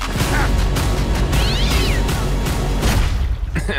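A cartoon cat meows in The Garfield Movie, a short rising-and-falling cry half buried under loud, busy music and sound effects.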